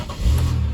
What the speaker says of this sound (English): hopefully I can start it up here